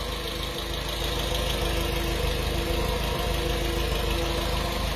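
Rear-mounted 16-valve engine of a Toyota MR2 idling steadily, a continuous low mechanical hum with a faint knocking texture, close and even throughout with no voices.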